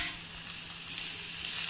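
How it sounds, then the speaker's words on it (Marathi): Onion sautéing in oil with curry leaves for a dry capsicum bhaji, a faint, even close sizzle with a soft airy hiss, no distinct stirs and no voices. "आता तांबूस होईपर्यंत कांदा परतायचा आहे आपल्याला।"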